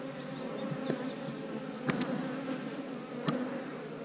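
Honey bees buzzing around a strong hive outdoors, a close, steady hum of many insects with individual bees darting past, and a few sharp knocks or clicks breaking through.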